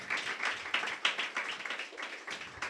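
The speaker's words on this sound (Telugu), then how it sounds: "చప్పట్లు కొట్టి ప్రభువును ఘనపడతాం గాక" A church congregation at a Sunday service claps together in praise, a dense run of rapid hand claps swelling and easing in waves for a few seconds, fairly close and without talk.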